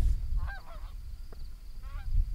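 Geese honk several times at dusk during a goose hunt, short nasal calls at moderate distance rising in two brief bursts over low background rumble.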